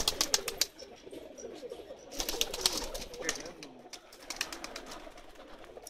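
A flock of Pakistani pigeons coos softly and steadily, with sharp fluttering bursts of wingbeats breaking in now and then close by.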